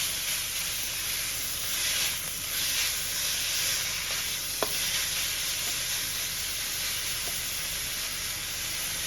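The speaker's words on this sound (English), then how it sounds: "what we're gonna do next is just fry it up. So we wanna fry this till it's crispy" Bacon fries in a skillet for sloppy joes, giving a steady, dense sizzle and crackle that holds at an even level throughout, with a single sharp pop near the middle and no talking.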